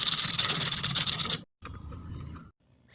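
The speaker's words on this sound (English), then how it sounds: "Now to make its handle, I use this paint brush and started sanding it." Sandpaper rasps quickly and steadily against a wooden paint brush handle up close, pausing briefly, then resuming in a shorter burst before stopping.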